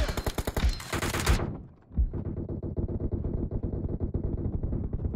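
Rapid automatic gunfire from a PUBG Mobile match on an iPhone 7, a dense burst of repeated shots, a short pause, then more sustained rattling fire, loud and close with no talking.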